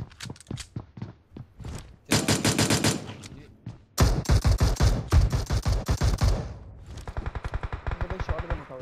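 Bursts of automatic gunfire in PUBG, with rapid rhythmic shots in separate volleys, loud and close, a dense heavy stretch midway, then a quicker lighter rattle at the end.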